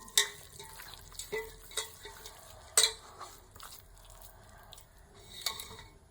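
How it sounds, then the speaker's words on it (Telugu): Spiced prawn fritter batter being stirred in a bowl with turmeric, chili powder and ghee, giving soft scraping and clinking strokes in an uneven rhythm, close and fairly quiet, with no talking. "ఇవన్నీ శుభ్రంగా ఇలా కలిపేసుకోవాలి."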